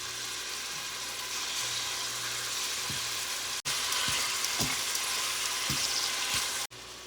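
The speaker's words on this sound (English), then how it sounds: "We brown the meat in the pan." Beef browning in oil in a pan for Hungarian goulash gives a steady broadband sizzle with occasional soft clicks and stirring knocks, continuous and fairly close, with two brief cuts.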